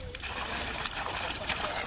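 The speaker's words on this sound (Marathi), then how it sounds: "बघू शकता पाणी चालू झालेलं आहे." Water gushes from the outlet of an Ecozon 5 HP solar pump, a steady rushing splash with gurgling surges, heard close and continuous while a voice talks over it.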